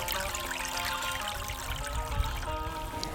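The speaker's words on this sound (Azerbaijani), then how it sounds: "Şəlmaş şəlaləsi." Flowing water at the Shalmash waterfall, a steady, unbroken rush that stays even and close throughout, with no voices over it.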